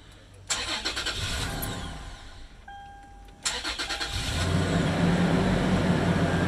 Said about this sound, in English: now the first time turning the car on